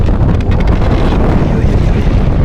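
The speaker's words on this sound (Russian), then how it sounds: "опять ветер поднимается, блин." Strong, gusty wind roars steadily across an open lake shore at the Vileyka reservoir during a float-fishing championship, buffeting the microphone with loud, continuous rumbling and no voices.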